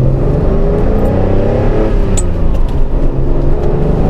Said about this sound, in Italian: Poi mi piace il suono. Devo dirvi la verità, non è proprio il tipico suono Ferrari,